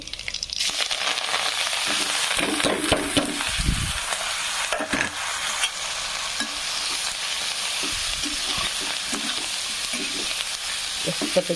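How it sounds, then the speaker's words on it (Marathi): Eggplant pieces frying in a pan for a Marathi-style recipe, giving a steady, close sizzle broken by scraping stirs of a spatula, with no talking. "असे वांगे टाकून घेतलेले आहेत छानपैकी वांग्याला फ्राय होऊ द्यायचं"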